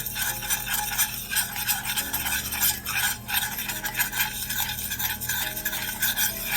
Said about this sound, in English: Add 1 tablespoon of curry to the oil.